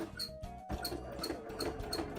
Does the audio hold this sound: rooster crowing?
no